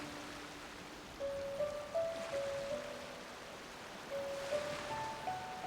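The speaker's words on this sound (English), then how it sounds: "Nope, that's a waterfall." A waterfall in a video game, heard as a soft, steady rush of broadband water noise. Faint tonal game music plays on top of it the whole time.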